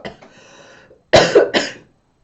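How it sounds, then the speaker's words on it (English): A person coughs in three sharp, close bursts in quick succession, preceded by a faint, quieter throat sound and followed by silence. "I need to cough."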